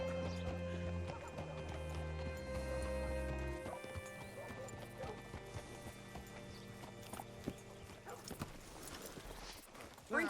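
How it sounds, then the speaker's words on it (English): Steady clip-clop of horse hooves over layered game music, with a whinny-like tone near the start and a brief thud at the end. "Hitch your horse up here."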